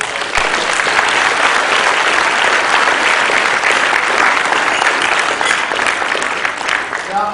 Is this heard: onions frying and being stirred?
no